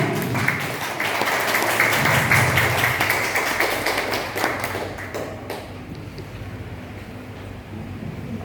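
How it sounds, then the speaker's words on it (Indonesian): Audience applause at a first presentation event for a business network in Lamongan, a dense wash of many hands clapping that swells, holds loud for about five seconds and then thins and fades away. "Tepuk tangan buat ketua acara."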